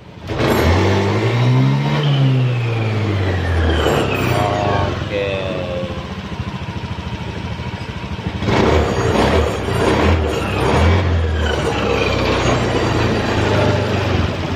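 A Honda Scoopy fuel-injected motor scooter engine is revved hard at full throttle, a loud sustained drone rising and falling in pitch, and it grows rougher partway through. Someone speaks briefly near the start.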